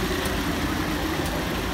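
A team bus drives slowly around the Stamford Bridge stadium, its engine a steady, loud low rumble like idling with no break.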